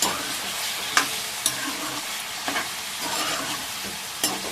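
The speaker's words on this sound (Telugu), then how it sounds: "ఒకసారి ముక్కల్ని ఇలా అంతా ఆయిల్లోకి మిక్స్ చేసుకొని డీప్ ఫ్రై చేసుకోవాలి." Fish pieces deep frying in oil for fish pickle, a dense continuous sizzle and crackle with occasional sharp pops and stirring clatter close by.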